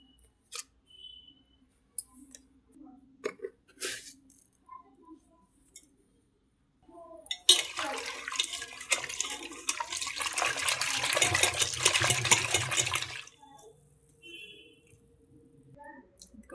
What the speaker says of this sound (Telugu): మళ్ళీ ఒకసారి ఇంట్లో పసుపు వేసి కొంచెం ఉప్పు వేసి కడుగుదాం.